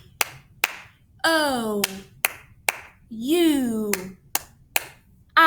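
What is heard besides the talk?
children clapping three times between spoken vowel names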